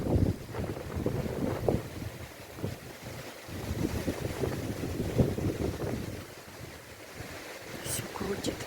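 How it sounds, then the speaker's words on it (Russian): Strong, gusty wind sweeps through a wooded yard, buffeting the microphone with a steady low roar that surges and eases in waves. "Ой, у нас такие порывы ветра ужасные."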